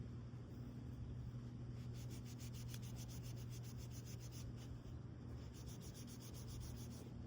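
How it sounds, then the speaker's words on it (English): Quiet, steady rubbing and scuffing as a Buck 112 knife with nickel silver bolsters and ebony inlays is buffed to a brushed finish, a soft continuous abrasive stroke pattern with faint rhythmic pulses. "I'm buffing it out a little bit, and I'm also blending those deeper scratches"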